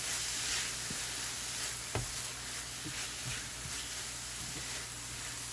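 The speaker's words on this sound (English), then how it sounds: "We're going to saute this." Onion, garlic and green seasoning sautéing in a pan for black bean burgers, a steady quiet sizzle broken by a few soft utensil scrapes and taps, close by with no talking.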